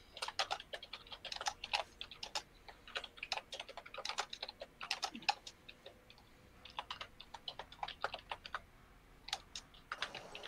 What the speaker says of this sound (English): GM typing